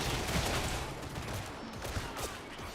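Gunfire in the video game Darktide, a dense, noisy burst of rapid shots with heavy recoil, loud and close, continuing steadily across the clip with no talking.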